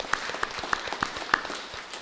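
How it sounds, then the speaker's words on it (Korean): A church congregation claps together during a Sunday worship service, a roomy burst of applause with a few sharper, evenly spaced claps standing out over the blended patter. "수고하는 분들께 박수하겠습니다"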